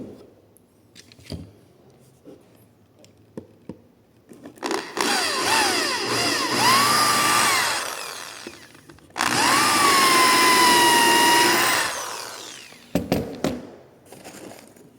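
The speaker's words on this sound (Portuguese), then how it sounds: "Vou parafusar mais um." A cordless screwdriver drives a 4x40 screw into wood in two loud, close bursts of whirring motor, each a few seconds long with the pitch settling as the screw bites, framed by scattered handling clicks and knocks.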